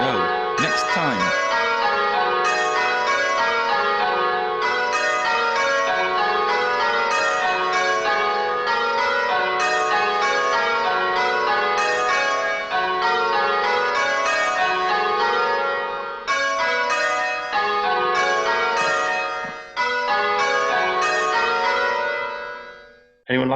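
Church bells change ringing, the treble moving places every blow through the rows, a bright, continuous cascade of evenly spaced strikes with steady rhythm, ringing close and loud until the peal stops abruptly.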